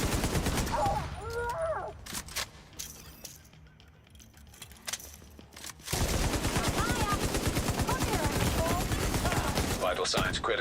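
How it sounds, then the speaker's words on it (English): Automatic gunfire from The Division video game rattles in dense, rapid bursts, with brief gaps and a quieter stretch before another long, loud volley, amid game effects and faint voices. "Why can't you just stand up and let me shoot you?"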